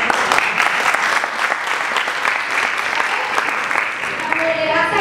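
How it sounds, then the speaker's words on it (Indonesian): Audience applause at a team introduction during a website launch event, steady loud clapping from a crowd filling the whole stretch without break. "coba tepuk tangan sekali ikut."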